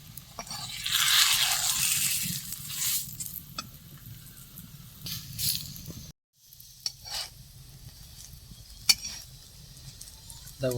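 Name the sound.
frying dough on a tawa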